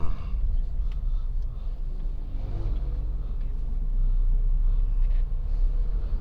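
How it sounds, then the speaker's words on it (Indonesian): Steady low rumble of slow, congested night traffic on a road from the Puncak direction toward Cianjur, with cars and touring motorcycles idling and creeping past in a continuous dense drone. "Macet lagi ternyata."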